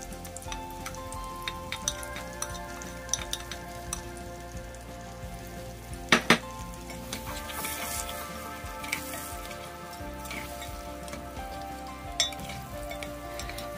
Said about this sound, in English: In we go with our mise en place veggies and the garlic.